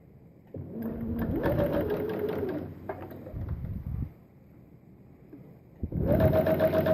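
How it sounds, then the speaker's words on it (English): A sewing machine runs in two bursts, stitching a quarter-inch seam down the short edge of a folded fabric rectangle. Each burst is a steady, close mechanical whir, and a short quiet pause falls between them. "now I'm going to sew this"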